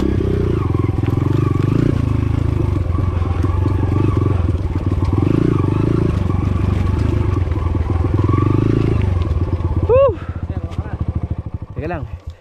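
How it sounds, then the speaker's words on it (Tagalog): Motorcycles on a mountain trail near Mt Tapulao give a steady engine drone with clattering throughout, then a couple of rising revs near the end, while people talk nearby. "Ayun na yung mga motor nila."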